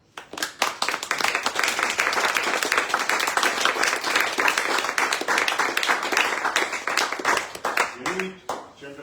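Dense, loud audience applause fills a cookbook launch for authors Aavo Kokk and Andres Eilar, a continuous crowd of hands clapping for about eight seconds before fading as a voice begins to speak.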